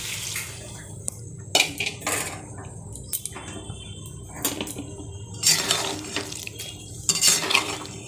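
Water poured into a pan of spiced soybean curry with chili and coriander powder, heard as brief splashing bursts with clinks of pots and utensils in a kitchen, fairly quiet and with no talk.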